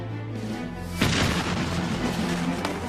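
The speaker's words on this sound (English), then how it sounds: "Santa Anna's cannons slowly battered away at the walls of the fort." A cannon booms during the 1836 siege of the Alamo: one heavy blast erupts over a dense, steady battle rumble, then rolls out into a long, loud roar.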